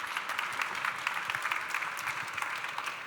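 Applause from a conference audience at a hotel-industry panel, steady, moderate clapping from a room full of people that keeps up for the whole stretch.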